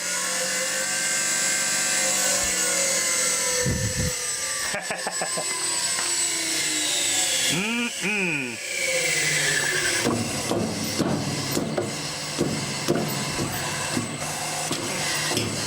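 A loose electric motor runs on a variable frequency drive with a slipping belt, giving a rough mechanical drone with whining sweeps, rattles and repeated knocks and clunks, close and fairly loud throughout.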